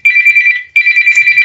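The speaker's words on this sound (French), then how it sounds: "sur cette sonnerie, on va continuer" Telephone ringtone: a loud, high electronic warble rings in two rapid trilling bursts separated by a brief gap.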